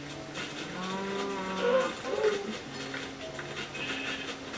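A cow in Minecraft (Xbox 360 Edition) lets out drawn-out lowing moos that swell in the middle. The sound is moderately loud and clear over a soft in-game background, with no talking.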